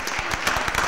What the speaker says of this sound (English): give us another round of applause for Joe.